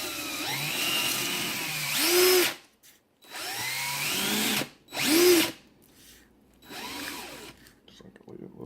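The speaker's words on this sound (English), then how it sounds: "I put it on my little chuck attachment thing on my drill so I could spin" A power drill spins a trumpet tuning slide clamped in a chuck attachment. It makes three separate whirring runs, each rising to a loud high whine and then stopping.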